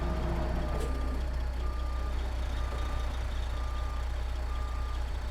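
A Kenworth K100 truck with a pneumatic B-double trailer reverses in American Truck Simulator, its backup alarm sounding steady evenly spaced beeps over a constant low diesel engine rumble.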